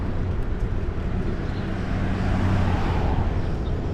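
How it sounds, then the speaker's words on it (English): Road traffic on a beachside boulevard hums as a steady low rumble of passing cars, fairly loud and continuous, with no voices heard. "You can tell the traffic is starting to pick up just a little"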